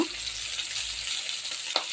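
Pangas fish frying in a pan: a soft, steady sizzle and crackle of oil, fairly faint and continuous, with a brief sharper pop near the end.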